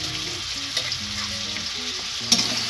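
Onion paste and three green chillies fry in a pan for a mixed winter-vegetable curry: a steady, close sizzle with occasional stirring scrapes and a louder clink near the end.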